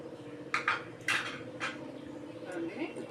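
Fried cashews and almonds, browned in ghee for bottle gourd halwa, are tipped into a bowl with a few faint, light clinks and rattles while a voice talks softly.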